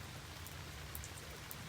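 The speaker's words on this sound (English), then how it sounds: "it seems like it's raining again here today" Soft, steady patter of rain falling outdoors on a rainy day, faint and even, with a few slightly sharper drops standing out.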